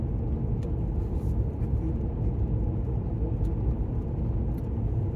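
A car climbs a mountain road in southwest Texas, its engine a steady, close low rumble with road and wind noise that holds evenly throughout, no voices.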